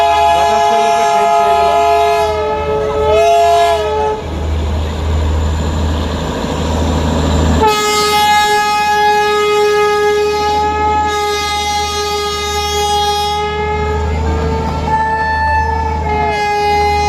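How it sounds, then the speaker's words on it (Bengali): Darjeeling toy train on its narrow hill track, sounding long, loud, tonal horn blasts that break off and resume over a deep rumbling engine drone, close by. "জুম করে এই যে দেখুন একটা টয় ট্রেন দাঁড়িয়ে আছে।"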